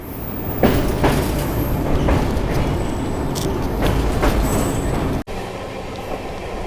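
Amrit Bharat train rumbling across a bridge over the Penna River, a steady loud roar of wheels and cars with rhythmic rail clatter throughout, a sudden cut near the end into a slightly quieter continuing rumble.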